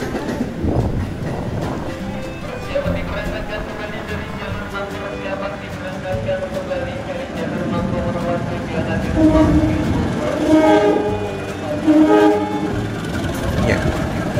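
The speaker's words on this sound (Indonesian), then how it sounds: "itu adalah kereta api Serayu yang melintas langsung di jalur stasiun Jatinegara" The Serayu passenger train rolls through Jatinegara station with steady rumbling wheels and horn-like tones rising midway, heard nearby for the whole stretch alongside speech.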